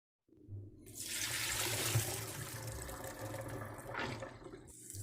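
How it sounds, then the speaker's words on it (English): Boiled peas are drained, with water pouring and splashing in a steady, moderately close gush that lasts a few seconds before tapering into a smaller trickle. "And now we're going to drain the peas."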